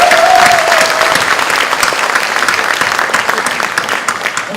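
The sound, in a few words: crowd applause at election campaign rally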